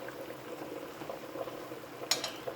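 Cabbage and pumpkin with chili flakes are stirred in a cooking pot over the heat, giving a steady low bubbling and sizzling simmer with a brief, sharper scrape of the spoon near the end.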